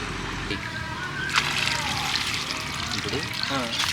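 Water is poured into a clay pot over freshly scrubbed snails, giving a close sloshing trickle and splash in a village kitchen while a person talks over it.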